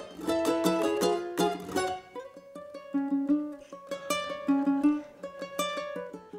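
A ukulele plays a song in a radio studio, with bright strummed chords at first and then a picked melody line, heard alone and close with no talking.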